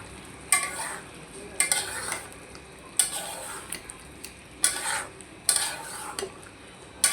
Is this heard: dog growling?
no